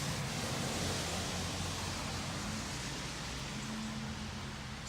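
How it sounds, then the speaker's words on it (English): Steady outdoor rain hisses evenly and fairly loud, a broad unbroken wash of falling drops with no gaps and no talk. "Yeah, it's raining."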